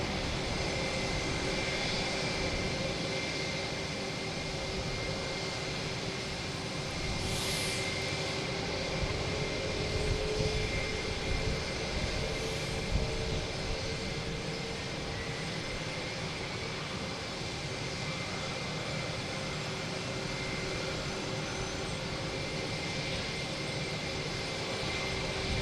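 A Delta airliner runs its jet engines at Boston Logan Airport at night, a sustained distant rumble with steady tonal hum that stays even for the full stretch, with no talking.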